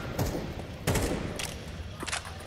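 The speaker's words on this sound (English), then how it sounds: "it's just pistols, Chad." Pistol fire in a Counter-Strike 2 match at a major tournament, several sharp shots in a ragged sequence with one heavy report near the middle, over a low background bed and with no talk.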